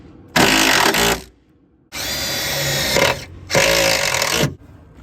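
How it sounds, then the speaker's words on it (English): A power drill drives a self-tapping screw into a trimmed speaker bracket in a 2010 Toyota RAV4 front door, whining loudly in three close bursts with short pauses between them. "I'm gonna use a self-tapping screw."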